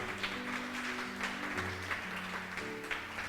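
Light applause from a church congregation during worship, soft and steady clapping over sustained organ or keyboard chords.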